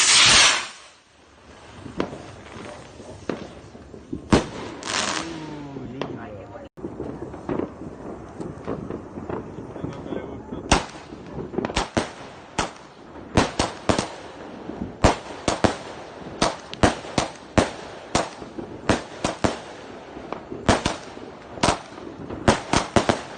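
A 100-shot firework cake set off at Christmas, opening with a loud burst and then a long rapid string of crackling pops and bangs, some close and sharp, with wind buffeting the microphone.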